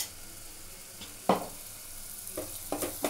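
Spice masala sautés in a pan for a mutton dish, giving a low steady sizzle with several sudden louder bursts of stirring and scraping, near and with no talking.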